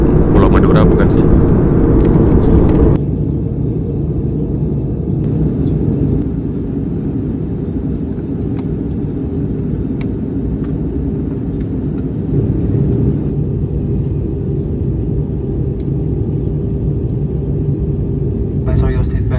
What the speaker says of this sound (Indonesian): pesawat Super Airjet sudah menuruni ketinggian